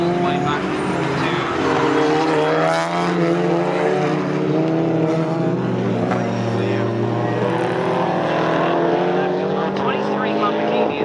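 A Lamborghini Super Trofeo race car racing at Snetterton in a British Endurance Championship event makes a loud, sustained engine note with shifting pitch, while a commentator talks over it.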